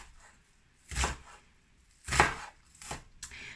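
Knife chopping onion on a cutting board, three separate heavy chopping strokes spaced about a second apart, close and clear with quiet pauses between.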